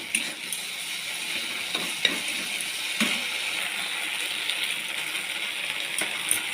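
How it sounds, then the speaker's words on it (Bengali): Poppy seed paste sizzles steadily in a hot pan with occasional sharp utensil taps and scrapes against the metal, a continuous close fry with no voices. "এখন পোস্ত বাটাটা আমি দিয়ে দিলাম, ভালো করে কষিয়ে নেব।"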